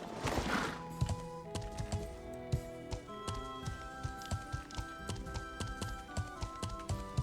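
A horse gallops in the medieval MMO game Life is Feudal, its hooves a steady rhythmic clopping under game music, with an early burst of a louder noisy hit.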